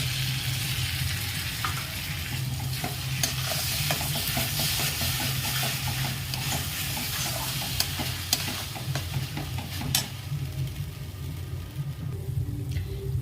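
Ginger, garlic and tomato paste added to fried spices in a pan, sizzling steadily while a spoon scrapes and stirs in quick repeated strokes, with a low hum underneath.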